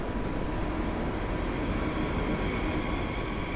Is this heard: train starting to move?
yes